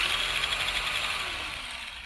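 A brushed mini RC car's small electric motor running at full throttle, giving a continuous loud high-pitched whine with a buzzy rattle that fades slightly toward the end.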